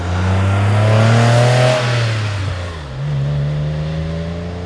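Porsche 993 engine revving while driving, a loud, close engine tone climbing, dropping as the driver shifts, then building again steadily.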